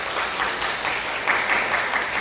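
A church congregation applauds to welcome a first-time worshipper at a Sunday service, with steady, moderately loud clapping throughout and no talk over it.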